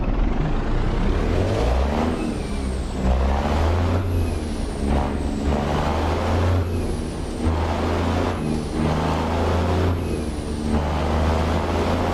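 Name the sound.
truck engine brake in a truck driving video game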